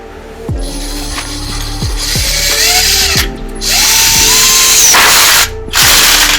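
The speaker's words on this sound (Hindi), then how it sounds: "मैं इस स्क्रू को इस वुड में इंसर्ट करने जा रहा हूँ" A Bosch GSB 120Li combi drill drives a screw into wood in repeated short bursts, its motor whirring and rising in pitch under load with clicking between runs, close and fairly loud.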